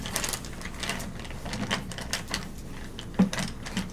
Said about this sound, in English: Can you shuffle We'll the cards, see. please?